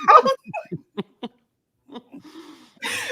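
Dog whimpering and barking as a sound effect on a radio show: a run of short, thin yips and whines, then a louder, rougher bark-like burst at the end, with no talk.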